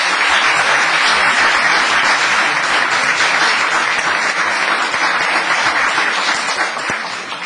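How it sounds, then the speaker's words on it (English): Loud, sustained round of applause from an audience at a town council meeting, thick continuous clapping filling the room for over seven seconds, fading a little at the very end. "Let's give these women a round of applause."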